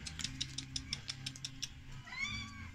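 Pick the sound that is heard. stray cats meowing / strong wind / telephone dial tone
stray cats meowing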